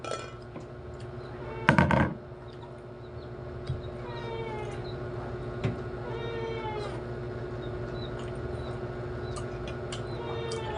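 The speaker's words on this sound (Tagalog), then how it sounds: "Umiiyak na yung aking pusa" A cat meows repeatedly in drawn-out cries over a steady background hum, with a brief loud clatter of dishes near the start, during a meal of snakehead fish.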